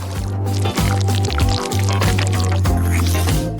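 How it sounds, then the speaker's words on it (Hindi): Filling goes into a small hole cut in layered food, giving wet, squishy pouring and dripping sounds over a low droning hum, loud and close, with no talk. "अब फिलिंग को अंदर डालेंगे।"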